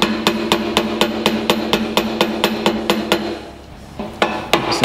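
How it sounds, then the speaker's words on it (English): Sharp-tipped tool struck repeatedly to knock retaining tabs loose from the front fender braces of a Harley-Davidson bagger, a close run of evenly spaced metallic taps, briefly pausing near the end before a few more strikes. "you have to knock these little tabs loose from the fender braces"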